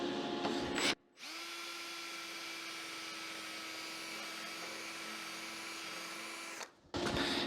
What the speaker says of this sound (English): 8mm or 5/16 drill bit.